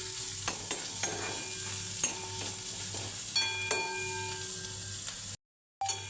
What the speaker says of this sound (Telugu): ఉల్లిగడ్డ, వీటన్నింటిని కొద్దిగా వేయించుకోవాలి.